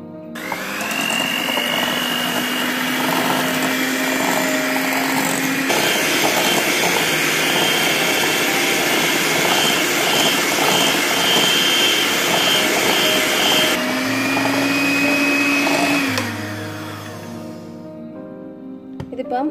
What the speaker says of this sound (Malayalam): ഇത് മിക്സ് ചെയ്യാൻ വേണ്ടിയിട്ട് നമുക്ക് ഒരു ബീറ്റർ ഉപയോഗിച്ച് നമുക്ക് മിക്സ് ചെയ്യാം.